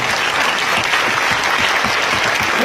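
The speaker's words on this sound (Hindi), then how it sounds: "एक बार जोरदार तालियां बजा दीजिए" Loud, close applause from a standing audience cheering for new friends at a motivational talk, dense continuous clapping with no letup across the whole stretch.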